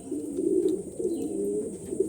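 Pigeons cooing in a loft, a continuous low rolling coo from several birds, close and steady, with no talk.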